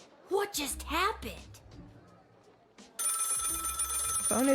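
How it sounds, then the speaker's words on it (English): Telephone ringing in the game Lil' Guardsman: a bright, steady electronic ring starts partway through and continues to the end, loud, following a stretch of someone talking, with speech returning over the final ring. "Phone is ringing."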